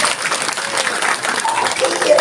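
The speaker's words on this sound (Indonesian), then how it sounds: "Tepuk tangan untuk Mantiga." A crowd at a religious talk held at an Islamic high school claps in a dense, fluttering patter, with excited voices and chatter mixed in throughout.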